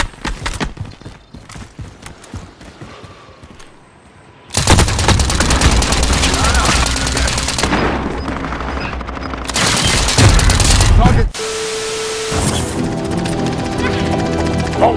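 Heavy gunfire in Call of Duty Warzone on Rebirth Island, loud sustained bursts and rapid volleys after a quieter opening of scattered shots, with battle noise throughout.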